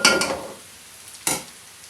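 Onions frying over medium heat in a pan for karela sabzi get stirred in two short, scraping bursts with a soft sizzle between them, close by and without talk.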